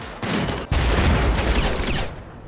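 Dense burst of gunfire from a RimWorld battle, overlapping shots fired in rapid succession, loud and continuous with a sharp break partway through.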